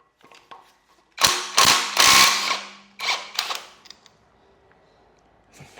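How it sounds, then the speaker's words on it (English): A crank bolt on a Ford EB Falcon SOHC engine is worked loose with a puller, a sharp burst of loud metallic rattling impacts, then a few shorter clanks and light tool clicks in a quiet workshop. "So let's try and get this crank bolt out."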